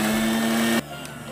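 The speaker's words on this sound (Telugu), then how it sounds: "ఇప్పుడు దీన్ని మనం మిక్సీ పట్టుకుంటే మింట్ చట్నీ రెడీ అయిపోతుంది" A kitchen mixer grinder blending mint chutney whirs loudly and steadily with a strong motor hum, then cuts off abruptly partway through, leaving quiet room tone.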